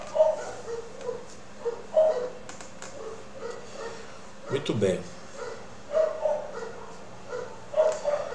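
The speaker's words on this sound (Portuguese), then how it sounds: "Cachorrada aqui logo cedo" Several dogs bark in short bursts early in the morning, recurring every couple of seconds at moderate distance, with someone speaking briefly over them.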